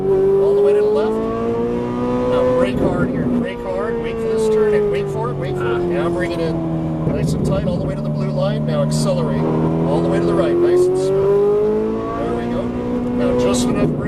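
A Ferrari 458 Italia accelerates hard on a race track, its engine note climbing and falling through gear changes across the whole stretch, loud and close, with a voice talking over it.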